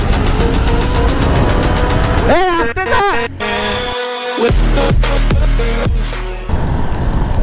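Suzuki Gixxer motorcycles, a Gixxer FI ABS and a Gixxer Monotone, rev hard and pull away in a drag race. Loud, close engine notes climb and shift repeatedly, with gear changes breaking the rising tone and wind noise.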